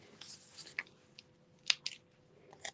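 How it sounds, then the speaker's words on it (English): Ribbon scissors snip ribbon on a handmade card, a few quiet, crisp cuts and small crunchy rustles close by in an otherwise hushed room. "I have to bring out my ribbon scissors"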